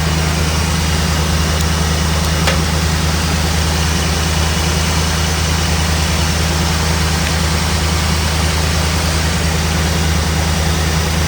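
A 1979 Ford Bronco engine idles steadily and loudly with a constant low hum and no change in rhythm, and no one speaks.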